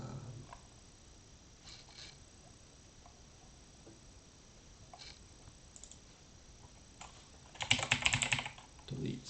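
Typing code on a computer keyboard, a soft, steady patter of keystrokes heard close up, growing into a louder quick flurry of clicks near the end.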